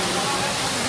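Rainwater pours like a waterfall through a collapsed false ceiling in a Hong Kong shopping mall during a black rainstorm, a steady, loud, broadband rush of falling water that fills the whole moment.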